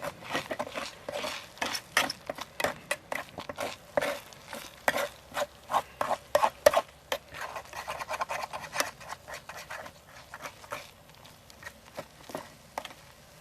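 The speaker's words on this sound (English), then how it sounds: "Take the lid off here and stir all this up again." Scrambled eggs being stirred in a pot over an alcohol stove, a quick run of close scraping, rasping spoon strokes against the pot bottom in an irregular rhythm, with no talking.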